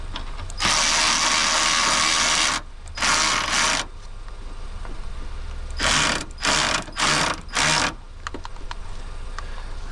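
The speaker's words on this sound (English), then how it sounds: "Take your socket out and just go till it gets loose." A ratchet socket wrench loosening a bolt on an abandoned Ford Crown Victoria, one long burst of fast clicking followed by several shorter close, loud ratcheting bursts, with no talking.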